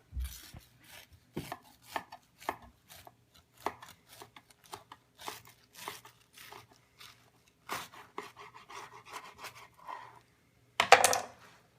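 A knife slices diagonally through a Big Horn Sheep S.W.A.T. burger, giving a series of sharp crunchy cuts and taps on a board, spaced irregularly, close and fairly quiet, ending with a louder scrape.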